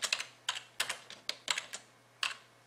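A computer keyboard clacks close by in irregular clusters of keystrokes with short pauses between them, crisp and isolated over a faint steady hum.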